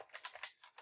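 Rapid keystrokes on a computer keyboard, a quick irregular run of soft clicks in under a second, faint and close with no talking.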